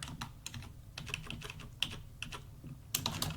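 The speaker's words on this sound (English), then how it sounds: "This is great to hear the typing." Rapid, irregular tapping of computer keyboard keys, close and crisp, with a few louder key strikes and no talking.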